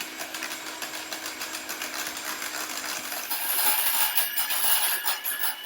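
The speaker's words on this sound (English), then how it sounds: "Put the bowl in, and then just start whisking it up." A whisk beats a thick mixture in a bowl set over simmering water on an induction hob, producing a close, fast, continuous metallic clicking and scraping that grows slightly louder toward the end.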